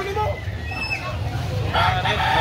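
A rooster being offered for sale crows close by against a steady low rumble, and a brief burst of clucking or crowing rises near the end.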